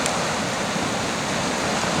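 Rain falls outdoors near the coast on a windy, stormy day, a steady dense hiss of drops with no gaps and no voices.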